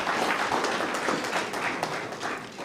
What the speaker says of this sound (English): Please clap hands for her.